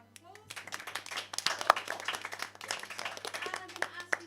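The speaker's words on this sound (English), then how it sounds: "we give our GM and our players another round of applause" An audience claps for the game master and players at a live tabletop roleplaying session, with brisk, dense applause building after a quiet start and voices mixed in beneath.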